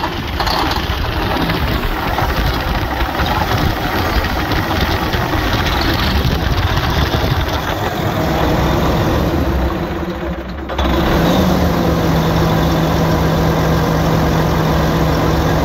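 Diesel engine of a 500 hp Freightliner grain truck cranking on fuel fed from a canister, then settling into a steady loud low idle, running continuously and close by with no talk over it.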